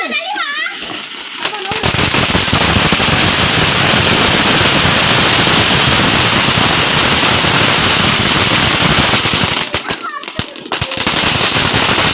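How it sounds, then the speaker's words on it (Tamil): Dense, continuous crackling of firecrackers bursting in the rain for about ten seconds, loud and close, with voices shouting at the start and end. "இந்த மழையிலே நல்லா இருக்குல்ல பட்டாசு."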